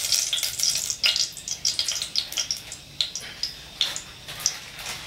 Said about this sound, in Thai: ใส่น้ำมันลงไปก่อนนะครับผัดพริกแกงนะครับ